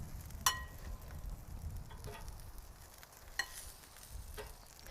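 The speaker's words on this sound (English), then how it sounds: "I'm gonna use my tongs to stir them around." Grilled chicken wings tossed in a bowl with tongs give faint, soft scraping and light clinks, with a couple of sharper taps, over a low steady background.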